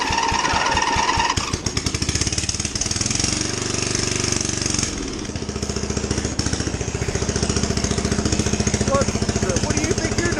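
Loud racing lawnmower engine running with no exhaust, a harsh rapid put-put that revs and shifts pitch, very close, with a person speaking over it.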